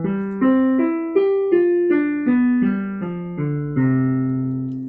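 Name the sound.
longer scale pattern played for voice warm-up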